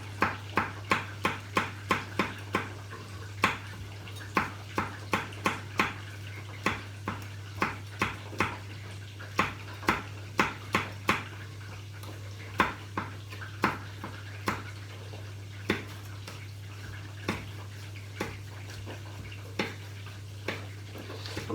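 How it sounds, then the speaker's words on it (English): A knife slices a chilli finely on a cutting board, close and fairly faint, giving a long run of crisp regular taps that starts quick and slows toward the end, with a steady low hum behind. "I'm trying to slice it as finely as I can."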